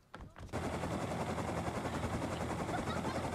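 An attack helicopter in the survival game Rust roars with a sustained, loud rotor drone that starts after a few sharp gunshots, mixed with continuous rapid machine-gun fire.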